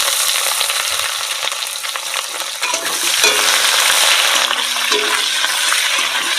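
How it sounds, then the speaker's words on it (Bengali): Chopped ginger and onion frying in a pan, producing a loud, steady sizzle and hiss throughout, with occasional scraping of a spatula and a fresh surge of crackling midway as more goes in. "আদা কুচিটা একটু ভালো করে ভেজে নেবো এবারে পেঁয়াজ কুচি"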